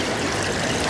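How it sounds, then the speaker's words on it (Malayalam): Water of the Thamirabarani river near Kallidaikurichi, Tamil Nadu, rushes and splashes as it branches between rocks: a steady, close, full wash of flowing water with no voices. "ഫ്രഷ് നല്ല ഒഴുക്ക് വെള്ളം."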